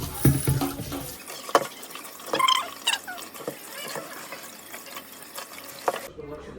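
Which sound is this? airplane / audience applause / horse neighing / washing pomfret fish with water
washing pomfret fish with water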